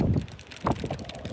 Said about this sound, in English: Sorry if it's windy.